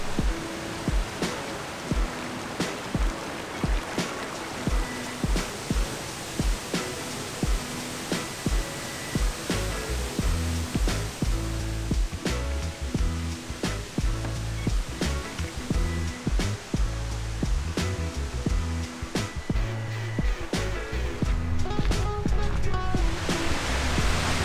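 High Force waterfall in the North Pennines roaring as a dense, steady wash of falling water, loud and constant throughout with no voices.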